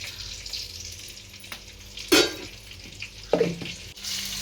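Brinjals sizzle and crackle in hot oil in a pan, with a couple of louder bursts as pieces shift, close up and with no talking.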